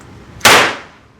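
A homemade machined primer cannon fires once, a single sharp and very loud close bang with a quick decaying tail.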